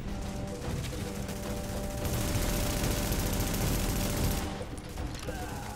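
Gunfire in the video game The Division, a dense, sustained burst of rapid automatic shots that swells in the middle and then tapers off into scattered bangs.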